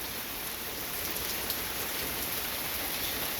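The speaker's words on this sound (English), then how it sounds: "Lots of rain." Steady heavy rain pours down during a stormy spell, a dense, even hiss of drops on surfaces with no pauses and no voices.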